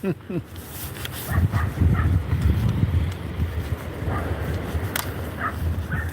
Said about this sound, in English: that dog were barking